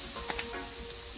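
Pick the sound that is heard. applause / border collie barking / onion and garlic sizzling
onion and garlic sizzling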